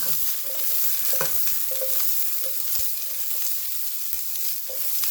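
Cauliflower fries in oil in a pan with a loud, continuous sizzle, broken by frequent clatters and scrapes of stirring at close range, with no talking.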